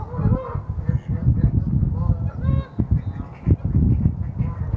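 Geese honk repeatedly at a goose pond, a run of nasal calls of varying pitch that sound fairly close, with a low voice speaking underneath.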